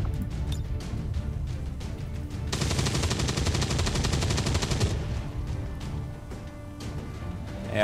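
A rapid burst of automatic gunfire from the video game XCOM 2: War of the Chosen lasts a few seconds, loud and evenly spaced, over game ambience with scattered clicks before and after.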